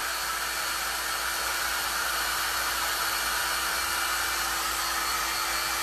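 Hair dryer blowing steadily and loudly on a painted remote-control holder with a washed patina finish, a continuous broadband whoosh with a faint tonal hum, no voices.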